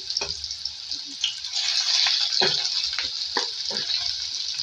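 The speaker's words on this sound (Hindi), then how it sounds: "इसमें एक मीडियम साइज़ की प्याज ऐड करेंगे और इसको जो है फ्राई करेंगे" A medium-sized onion frying in hot oil, a steady close sizzle with a few clattering stirs, no voices.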